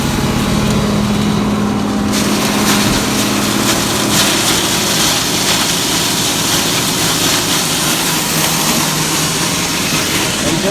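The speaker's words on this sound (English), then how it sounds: "And just like that, we're grinding." Tractor-powered grinder working through cattle feed, a steady loud mechanical roar and engine drone running continuously at part throttle, close and unbroken throughout.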